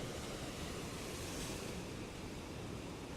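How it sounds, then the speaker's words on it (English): Ocean surf at a Gold Coast beach at sunrise, a steady broadband wash of small sloppy waves with some wind noise, continuous and fairly soft with no voices. "the surf hasn't been great, has it? But there's a wave here."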